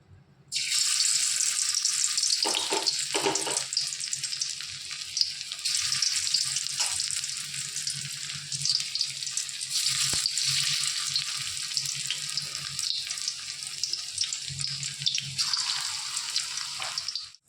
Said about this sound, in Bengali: এই যে কড়াই গরম হয়ে গেছে, এর মধ্যে তেল দিয়ে দিলাম। চলো বড়াগুলো ভেজে নেব।